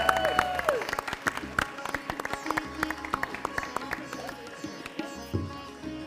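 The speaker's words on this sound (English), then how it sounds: "Can we start off by giving him a big round of applause," Wedding guests clapping as the bride's mother makes her entrance, scattered applause with sharp individual claps over background music and some voices, moderately close.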